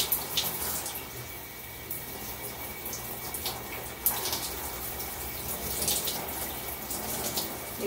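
Tap water runs steadily into a sink or basin for hair care, a continuous broadband splashing rush with small fluctuations, fairly close and with no voices over it.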